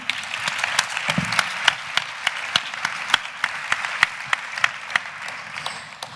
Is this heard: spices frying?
no